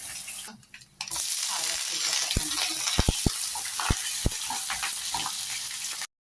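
Onion fries in a pan with a loud, continuous sizzle. After a brief quieter moment near the start, a few sharp knocks and scrapes of a utensil against the pan cut through the hiss.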